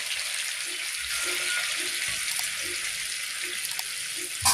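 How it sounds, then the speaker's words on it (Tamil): Water poured into a pan of frying chicken leg pieces sets off a steady broadband sizzle, fairly loud and continuous, with a short sharper burst near the end. "கொஞ்சம் தண்ணி ஆட் பண்ணிக்குவோம்"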